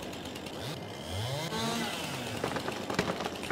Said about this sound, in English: so this tree's coming down.